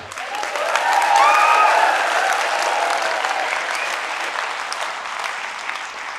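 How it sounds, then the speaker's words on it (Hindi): An audience at a motivational speech claps together in a dense burst of applause that stays steady, then tapers slightly toward the end. "तुम सबने बजाया ना ताली"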